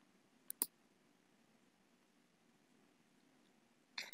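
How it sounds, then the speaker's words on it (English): Sharp computer mouse clicks sound close and dry: a quick pair about half a second in, then another at the very end, with near-silence between. "So click on blog."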